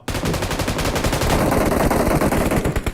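Video game gunfire in BGMI, a dense continuous burst of automatic fire from an attack coming from two sides, loud and unbroken for the full three seconds with no pauses.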